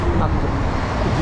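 Road traffic in Lockport, a continuous low rumble of passing cars and engines heard close by, loud and steady.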